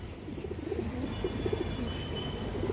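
Giribaz high-flyer pigeons cooing in a loft: soft, rhythmic low coos pulsing faintly under a steady background hiss, with an occasional thin chirp.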